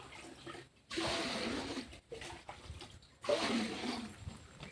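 A liquid fertilizer made from rice and ash is poured onto turmeric plants, heard as two bursts of splashing pour separated by brief pauses, fairly quiet and close.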